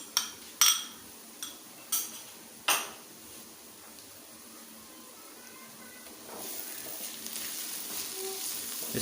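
Garlic ginger paste frying in a pan for Kabuli pulao, opening with several sharp metallic clanks of a utensil against the pan, then a soft steady sizzle that grows louder toward the end.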